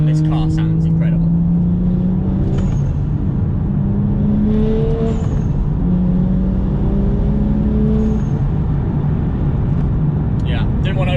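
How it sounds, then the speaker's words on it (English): A BMW M235i accelerates along a straight road, its engine note climbing in pitch through several gears with brief dips at each shift, loud and close throughout. "what we'll do now is just hear the car a little bit, because we've got a little bit of straight road, and this car sounds incredible"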